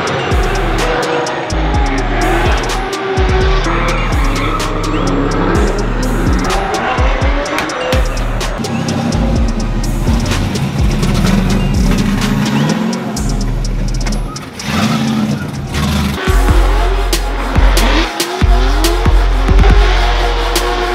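Tires squeal and an engine revs hard as a C6 Corvette drifts with clutch kicks on a track, loud and continuous throughout, with bursts of acceleration over steady road roar.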